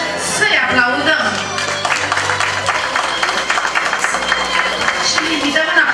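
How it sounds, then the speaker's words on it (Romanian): Wedding guests break into sustained applause for the parents, a dense crowd of clapping mixed with shouts and loud talk over it. "pe părinți să-i aplaudăm"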